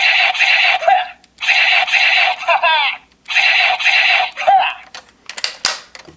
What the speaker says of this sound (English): you can do short presses for slashing sounds